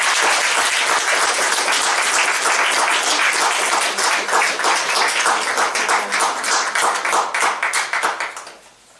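An audience at a poetry reading welcomes poet Sarah Pemberton Strong with sustained, dense applause from many hands that continues steadily and then tapers off near the end.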